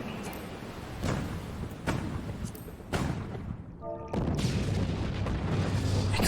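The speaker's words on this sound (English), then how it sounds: "Explosions!" Several heavy booming explosions in the video game Final Fantasy XIV land a second or so apart over a rumbling, noisy background, ending in a sustained roar.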